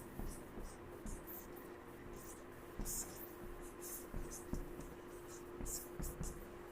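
Marker or chalk writing on a board during a math lesson, with soft scratchy strokes and taps coming in short irregular bursts over a quiet room tone.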